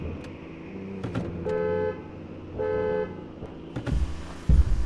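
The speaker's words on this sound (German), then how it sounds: "Oh mein Gott, ich kann mit dem Auto fahren." Car driven in the GoreBox video game, its engine droning steadily while two sustained horn toots sound, followed by clunks and a loud thump near the end.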